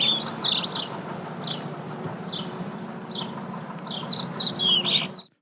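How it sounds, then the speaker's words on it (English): Birds chirping in a series of short, bright tweets and trills, sparse at first and then denser toward the end, over a steady low background hum, with no talking. "the correct sound of birds"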